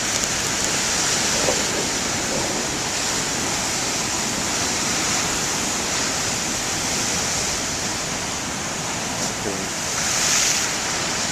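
Huge ocean waves break in a dense, continuous roar of surf, loud and near, with no talking.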